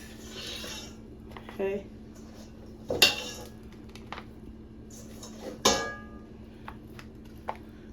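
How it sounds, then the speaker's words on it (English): Raw turkey wings set into a metal pan in a home kitchen, with a few sharp metallic clanks and light scrapes spaced apart over a steady background hum, under a speaking voice. "take your turkey and put them in the pan"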